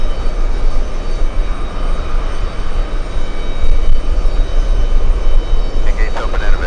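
A Delta airliner at JFK airport produces a loud, broad engine roar that holds steady throughout, close and dominant, with a voice talking faintly beneath it.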